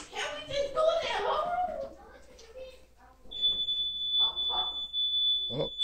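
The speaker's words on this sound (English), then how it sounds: "somebody hit the alarm" A shrill, steady high-pitched house alarm starts partway through and keeps sounding continuously, with people talking before and beneath it.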